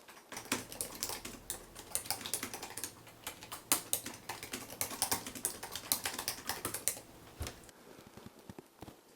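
A writer typing fast on a computer keyboard, a dense, rapid patter of key clicks that runs for several seconds before trailing off into a few last taps, close-up and moderately quiet.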